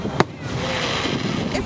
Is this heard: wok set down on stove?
no